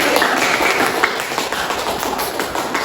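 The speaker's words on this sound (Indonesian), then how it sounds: "pokoknya tepuk tangan dulu" Audience clapping at an anti-corruption outreach session in a government office, a steady dense patter of many hands sustained throughout at fairly loud level with no speech over it.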